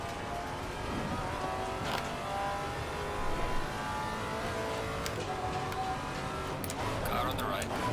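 Race car engines in an Assetto Corsa Competizione race at Oulton Park, a continuous mix of nearby engines with another car passing on the right, with a voice talking over the engine noise.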